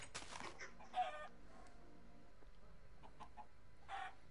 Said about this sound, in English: There's a chicken here if you want a chicken.